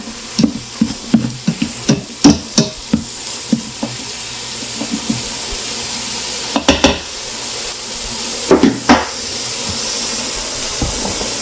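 Green pepper for chili sizzles and hisses loudly in an Instant Pot, with a steady frying noise and bursts of scraping, clacking stirring strokes in clusters, close up and without talk.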